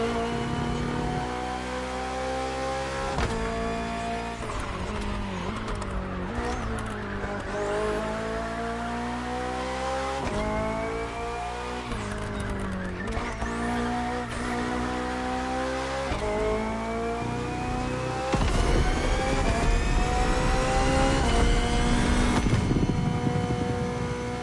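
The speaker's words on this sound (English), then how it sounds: "The Hybrid V8 will do the rest." A BMW Hybrid V8 race car engine in The Crew Motorfest revs hard and climbs through repeated gear shifts, each rising howl cut by a brief dip. The drive ends with a louder, rougher surge and some tire noise.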